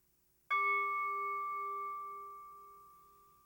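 A single mindfulness bell struck once, with a clear bright onset and a pure ringing tone that sustains and slowly decays over several seconds in near silence.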